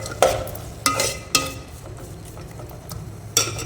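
Potatoes sauté in hot oil in a pan, a low steady fry broken by four sharp stirring clacks against the vessel, spaced irregularly and close by.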